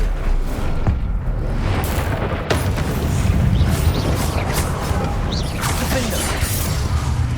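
An Incendio fire spell bursts in the Hogwarts Legacy game, a loud whooshing blast over a rumbling mix of crashes and game effects, with brief voices in the mix.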